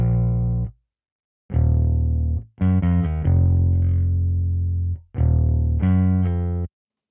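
Rickenbacker bass sample played in FL Studio, deep sustained notes in separate phrases with silent gaps, some quick repeated plucks mid-phrase, loud and alone with no voice.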